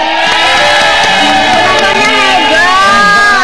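A large crowd cheers and shouts continuously at high volume, with voices blending into a loud, sustained roar.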